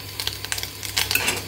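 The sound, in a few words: egg frying in a pan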